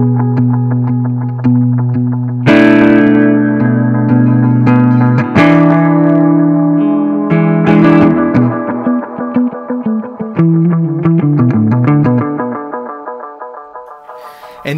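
Guitar notes and chords ring out through heavy reverb from an H9 effects pedal, long washy tails blurring each strike, with shifting effected textures, loud and steady, no talk.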